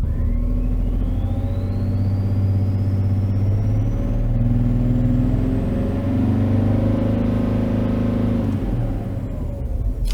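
A high-mileage BMW X5 diesel engine, about 450,000 km, is revved up and held, a loud steady rumble with a rising whine that climbs and then settles back down near the end.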